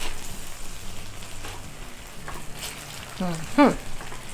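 Sausage, onions and brown sugar stirred in a sizzling pan, a soft continuous fry with scraping spoon strokes and a couple of sharper clinks toward the end.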